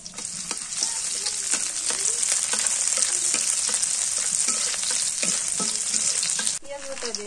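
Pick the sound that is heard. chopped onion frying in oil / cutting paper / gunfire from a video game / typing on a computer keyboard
chopped onion frying in oil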